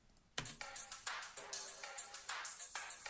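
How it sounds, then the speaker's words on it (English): An electronic drum loop in a song production for a Mandela Catalogue-themed track ticks along in a steady, quick pattern of crisp, light hits, quiet and close, with no voices. "Oh, I have a drum loop here now"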